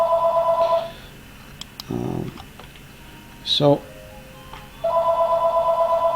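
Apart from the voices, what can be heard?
telephone ringing with an incoming call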